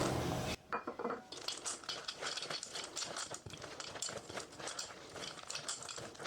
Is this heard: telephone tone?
no